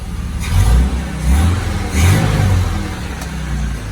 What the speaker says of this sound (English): You probably can't hear it if I rev it up from here, but I'll try.